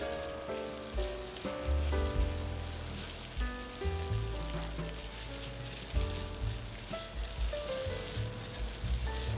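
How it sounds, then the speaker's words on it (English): Marinated meat frying in hot oil on high heat, a steady close sizzle like rain on a surface that swells with occasional tossing, under faint background music. "Heat up some more oil set on high heat, and then we'll add our marinated meat. Toss routinely until the meat is cooked."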